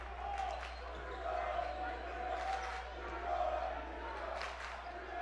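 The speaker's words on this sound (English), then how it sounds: "A loud and vociferous crowd" Loud, vociferous crowd noise at a high school basketball game between New Trier and Notre Dame, surging roars and shouts with a steady hum underneath and a commentator talking over it.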